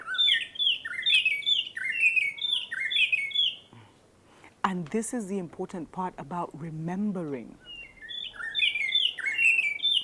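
Small birds chirp and tweet in quick repeated bursts, fairly close and steady, then drop out while someone talks for a few seconds before the chirping returns.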